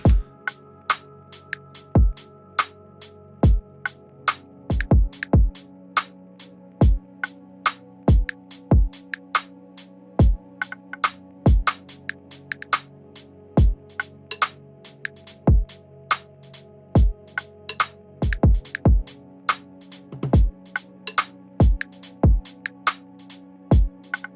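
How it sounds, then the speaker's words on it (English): An electronic drum groove repeats steadily, punchy kick hits and sharp clicky percussion over a low sustained tone, looping without any voices. "so now we have a drum groove that sounds like this"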